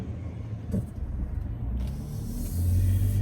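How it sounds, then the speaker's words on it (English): Cars roll past on a nearby road, a low rumbling hum of traffic that swells louder toward the end, heard alone without talk. "Hold on, I gotta wait for cars"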